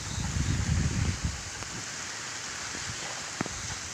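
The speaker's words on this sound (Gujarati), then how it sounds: "વરસાદ તો કેવો વરસાદ આવી ગયો." Rain falling steadily outdoors, a continuous hiss with a few louder drops and a brief low rumble near the start, with no talking.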